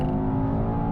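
A 2021 Mercedes-AMG E63 S roars hard under launch-control acceleration, a loud, close, sustained engine note with no voices over it.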